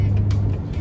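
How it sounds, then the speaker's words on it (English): A hot shot car hauler truck passes on the road, heard from inside a moving vehicle as a steady low engine and road rumble with brief whooshes, lasting under a second. "car hauler right there."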